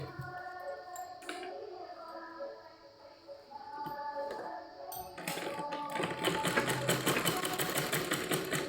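A sewing machine runs in steady bursts while hemming the folded edge of a petticoat, growing louder and denser toward the end, with no talking over it.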